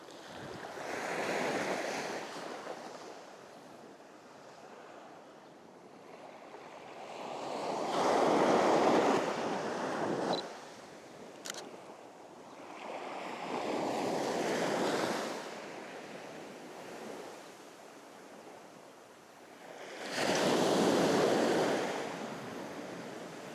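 Ocean waves on a sandy Algarve beach at sunrise, with four slow surges rolling in about five seconds apart, each building to a broad wash before fading, plus some wind.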